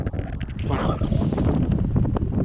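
Strong wind buffets and roars across the microphone in gusts outdoors in snow near a DeWalt 60-volt snowblower, a loud close rumble throughout with no clear voices.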